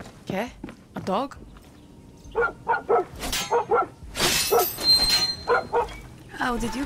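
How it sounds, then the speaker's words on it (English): A dog in Far Cry 6 barks in short yapping bursts mixed with people talking, the barks popping up between and under the voices at moderate loudness. "Okay, a dog?"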